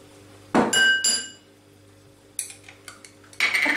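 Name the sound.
mixing Algerian sauce ingredients in a bowl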